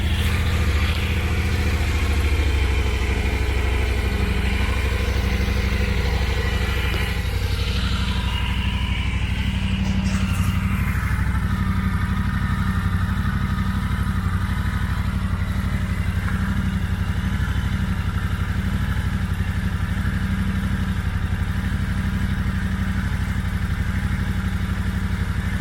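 A motorcycle, just back together after a stuck oil filter was dealt with, runs steadily close by with a loud, constant low engine drone and a slight shift in tone partway through. Nobody speaks.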